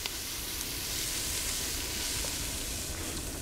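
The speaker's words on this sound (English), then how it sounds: "you're just going to soften up your onions a little bit" Onions softening and browning in a pan give off a steady, close sizzle, an even broadband hiss with no pauses that runs for the whole moment with no talking over it.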